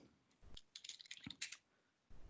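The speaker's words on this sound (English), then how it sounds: "I will be typing here something else" Fingers tap on a computer keyboard in a short, quick burst of close, crisp key clicks, with quieter gaps before and after.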